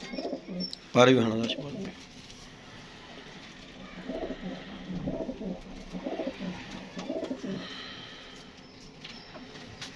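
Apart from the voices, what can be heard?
blue pigeons cooing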